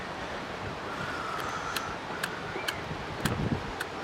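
Steady outdoor wind gusting across the microphone at low level, with a few faint sharp clicks, likely a flint wheel sparker, breaking through.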